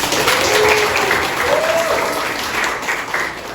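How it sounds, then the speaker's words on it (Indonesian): Classroom or seminar audience applauding a presenter after a talk on inflation, a dense, sustained round of clapping with faint voices briefly rising above it. "Tepuk tangan buat Pak Ren"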